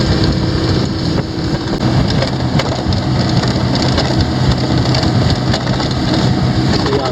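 A boat runs steadily at about 28 mph and 3,800 RPM, a loud continuous engine drone mixed with rushing water and heavy wind buffeting, unbroken and close with no talking.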